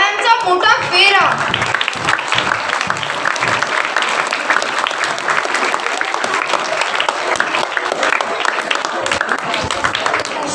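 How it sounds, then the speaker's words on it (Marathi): A school audience applauding after an eighth-to-tenth grade Marathi choral recitation, sustained dense clapping that stays loud and even across the whole stretch, with a brief voice heard at the very start. "त्यांच्या प्रेरणादायी कामगिरीसाठी टाळ्यांचा मोठा फेरा."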